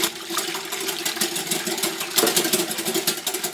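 Milk being whisked fast into chocolate cake batter in a bowl, a steady, dense whirring scrape with rapid rhythmic strokes, close and continuous, with no talking.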